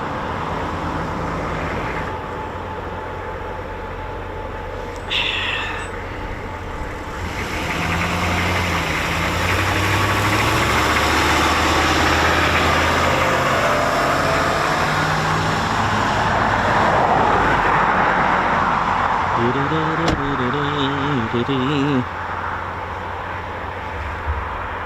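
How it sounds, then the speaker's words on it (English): Eurofighter Typhoon FGR4 jet engines keep running during a hot pit refuel at RAF Coningsby, giving a steady distant droning rumble that swells slightly midway, with a brief wavering tone near the end. "I can hear the engine still running. Haven't shut down yet."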